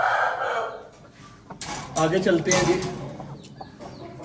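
A broody hen of a fancy Aseel breed, sitting on her eggs, gives low clucks and a few sharp calls close by while someone speaks over the sounds.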